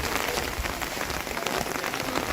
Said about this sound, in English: It is raining. You see the rain? It is raining.